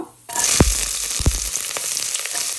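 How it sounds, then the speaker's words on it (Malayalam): Mustard seeds, shallots, green chillies and curry leaves hit hot oil with a loud, bright burst of sizzling that keeps crackling steadily, with a couple of sharp popping spatters early on. "ഓയിൽ നന്നായിട്ട് ചൂടായി വരുമ്പോഴേ കുറച്ച് കടുക് ഇട്ട് കൊടുക്കണേ"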